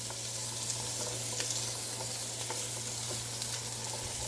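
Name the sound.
garlic sizzling in the Power XL StirMax multi-cooker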